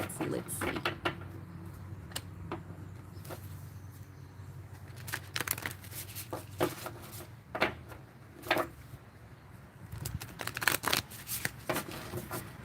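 Cards shuffled for a card reading, close and fairly quiet, with a run of irregular soft riffles, flicks and snaps over a low steady background hum.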